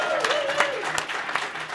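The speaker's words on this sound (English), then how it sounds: "Let's give yourselves first a big round of applause" A workshop audience at an improv theater session gives itself a round of applause: steady, moderately close clapping, with a voice and a brief whoop-like tone heard faintly at the start.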